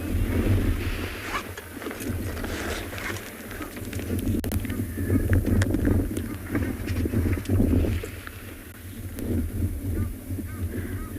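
Wind gusts across the microphone at Tswalu Dam on a cold, grey day, a continuous rumbling buffet with scattered faint bird calls and occasional knocks in the background.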